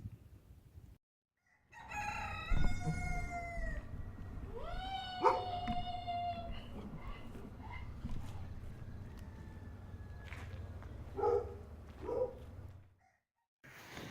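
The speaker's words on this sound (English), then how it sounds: "Everybody's starting to crow." Several roosters crowing outdoors, their long rising calls overlapping and answering one another at moderate distance for most of the stretch, with no talk.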